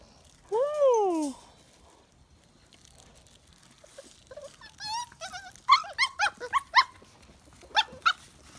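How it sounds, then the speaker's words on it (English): Dogs whimper and give a series of sharp, high barks at close range, with a long drawn whine at the start and clustered yaps later, plus a person's voice. "There you are, puppies."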